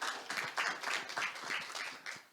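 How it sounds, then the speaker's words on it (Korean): An audience at an antibiotic-resistance conference applauds to welcome a speaker, steady dense clapping throughout, moderately near and fairly soft, with no talking over it. "큰 박수로 맞이해 주시기 바랍니다"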